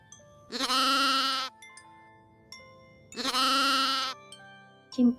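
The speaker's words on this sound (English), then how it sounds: "lamb" A lamb bleats twice, each a long, wavering bleat about a second long, near and clear with a quiet pause between them and a brief sound at the end.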